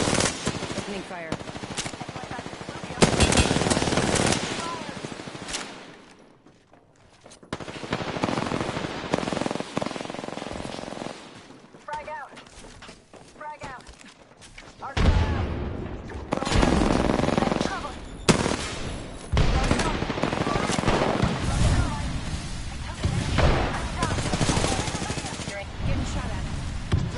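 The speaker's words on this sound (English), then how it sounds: "Opening fire." Bursts of gunfire in a first-person shooter video game, loud and sustained, with rapid machine-gun volleys and scattered shots amid game noise, a short lull partway through, then heavy firing again.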